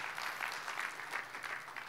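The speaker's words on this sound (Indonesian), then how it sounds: "Beri tepuk tangan untuk Tuhan Yesus" Moderately quiet, sustained applause from a congregation during a church service in Jakarta, many hands clapping in an even wash with slight pulsing swells.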